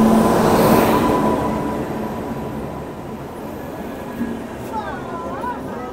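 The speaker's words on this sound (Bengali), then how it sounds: "তো ট্রেন ইতিমধ্যে দিয়ে দিয়েছে বোলপুর শান্তিনিকেতন স্টেশনের 2 নম্বর প্ল্যাটফর্মে।" The Biswabharati Express stands at platform 2 of Bolpur Shantiniketan station, its low rumble and hum loudest at the start and slowly fading, with a faint whistle-like tone near the end.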